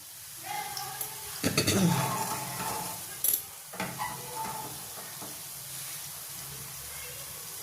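Chopped onions frying in a pan for onion rice bath, a steady sizzle broken by scraping, clattering stirs of a utensil against the metal, close up, with a voice speaking briefly.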